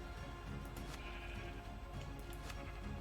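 Sheep in a modded Vanilla World game bleat repeatedly among clopping hooves and clattering, busy game sounds throughout.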